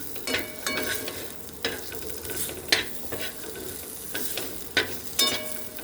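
Jute leaf chachchori being stirred and fried in a pan in a village kitchen, a constant close sizzle broken by repeated scraping strokes of a spatula against the metal, with no speech.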